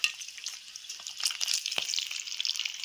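Food fries in a pan on a gas stove with a steady, close hiss and sizzle, scattered crackles and a few soft stirring knocks throughout, no voices.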